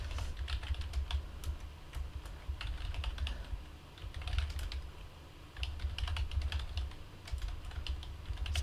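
Fingers tap a computer keyboard at close range, a quiet irregular patter of key clicks in short bursts with brief pauses between them, with no voices.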